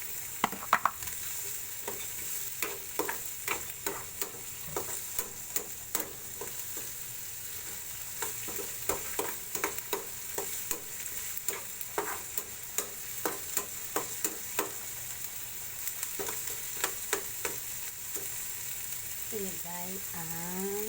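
Onion frying in a pan while being stirred for a spaghetti dish, with a steady sizzle underneath and frequent scraping clicks from the utensil, continuing throughout at moderate loudness.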